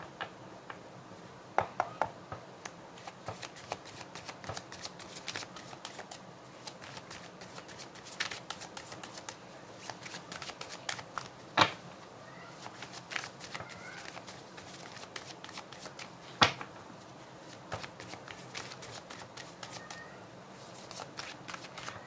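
Rider-Waite tarot cards are shuffled close up, giving a continuous run of rapid papery flicks and riffles with occasional sharper snaps and faint background sounds.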